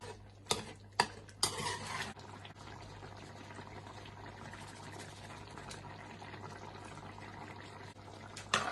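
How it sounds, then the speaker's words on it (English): Oxtail stew with tomatoes and softening vegetables stirred in a pot. Several loud utensil knocks come early, then a long stretch of steady, soft stirring and bubbling, with a final clink at the end. "Because the vegetables are softening, you mix it nice and well with the tomatoes."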